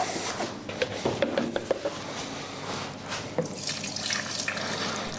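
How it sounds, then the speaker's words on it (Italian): Cold water, about a litre, pouring into panettone dough in an artisan bakery, a continuous trickling splash with a few drips and squishy mixing sounds, fairly close and moderately quiet. "vado a mettere l'acqua fredda, ci va 1 litro"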